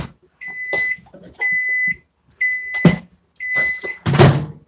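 Microwave oven beeping while melting chocolate melts, four spaced, loud electronic beeps in a steady pattern, each followed by clunks and rustling close by.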